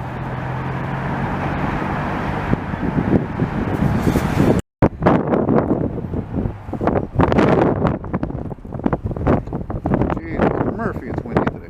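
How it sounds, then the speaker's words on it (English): Strong wind buffets the microphone in a steady roar beside railway tracks in Montreal, and a person talks through the gusts. "Jeez, Murphy, it's windy today."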